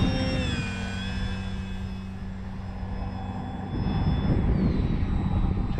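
A radio-controlled Tundra model airplane drones steadily overhead, its engine whine sliding in pitch as it circles and comes around for a landing, heard alone outdoors without talk.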